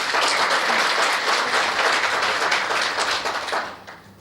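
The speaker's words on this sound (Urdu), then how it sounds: "آپ کے لیے بہت بہت تالیاں" Audience applause for a singer at a public event with Prime Minister Shehbaz Sharif, a dense, loud, sustained wash of clapping that fades away at the end.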